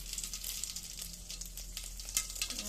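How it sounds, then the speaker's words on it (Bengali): Whole cumin seeds hit hot oil for tempering before a potato dish, producing a close, continuous crackling sizzle with small pops and spits and no talking. "তেল গরম হয়ে গেছে ফোড়নে দেবো গোটা জিরে"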